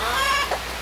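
A single brief cluck from a native chicken, fairly close and faint, with no other sound around it, during rainy weather.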